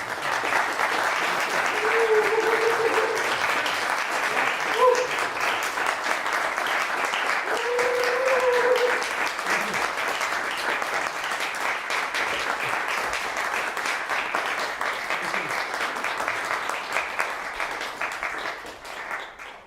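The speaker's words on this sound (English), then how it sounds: "So now you have to get all the applause." Sustained audience applause after a poetry reading, a dense, even wash of clapping from a crowd that holds steady for nearly twenty seconds at moderate loudness.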